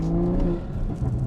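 A Toyota Supra fitted with boost gauges pulls briefly on the road, its engine giving a loud, close droning hum with a tonal whine that eases off toward the end. No one speaks.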